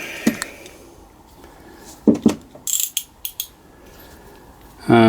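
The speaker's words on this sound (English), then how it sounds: "So I'll take that bolt out there now first, so that I can take this out." A 14mm socket wrench removing a bolt from the dynamo rotor cover on a Victoria Vicky FM38L engine, a few short ratchet clicks and metallic knocks, close, separated by quiet gaps.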